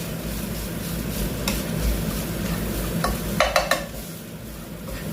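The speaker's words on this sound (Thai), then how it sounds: "ใส่ลงไปนะครับ ผัดให้เข้ากันครับ" Fish belly curry ingredients stir-fried in a pan give a steady, close sizzle and scraping, ending in a quick cluster of three metallic clinks from the utensil.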